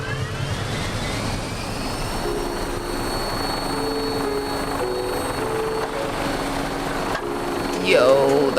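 Aircraft engine roar from a takeoff in a video game, a steady loud drone that swells toward the end, with a rising whine breaking through over the last second.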